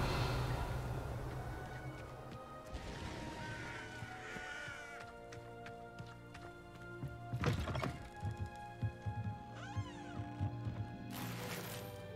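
A Revelio spell cast in Hogwarts Legacy: shimmering, chiming magical tones and sweeping glissandos over a soft musical bed, punctuated by several dull thuds and a few bright bursts.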